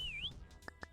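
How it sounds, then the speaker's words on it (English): A short whistled note that swoops down and back up comes from a character in the video game King of Retail, followed by a couple of brief soft clicks, all faint and quick. "Don't whistle at me, you scumbag."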